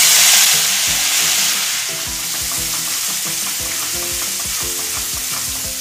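Grated sweet corn paste sizzles loudly in a hot pan with turmeric and chilli powder, a spoon scraping and stirring in steady rhythmic strokes, close by with no talking.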